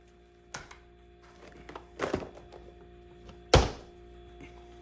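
Magazine handling on a Tara TM-9 pistol, three separate metallic thunks and clicks spaced about a second apart, the last one the loudest, close and crisp against a quiet background with no talking.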